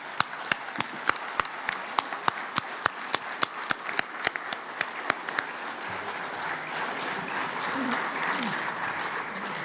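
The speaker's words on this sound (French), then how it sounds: "j'aimerais qu'on leur fasse une petite minute d'applaudissement" Applause from a union congress audience, rhythmic unison clapping that swells into dense sustained applause and cheering throughout.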